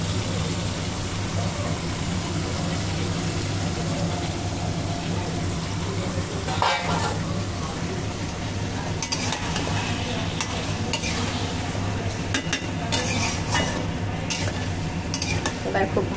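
Country chicken pieces are fried hard in a pan for a spicy curry, a loud continuous sizzle with a steady low hum running under it and scattered clicks of stirring toward the end.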